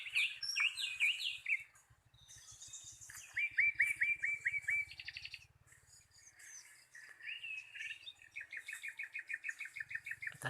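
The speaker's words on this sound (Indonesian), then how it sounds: "suara-suara burung guys." Wild birds chirp and trill in natural surroundings near Selomangleng cave, with repeated rapid tweeting phrases from several birds at moderate distance, a steady insect buzz underneath, and no talking.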